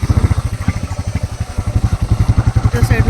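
A motorcycle engine idles nearby, a loud, rapid, even thumping pulse that keeps a steady beat throughout with a slight rise and fall.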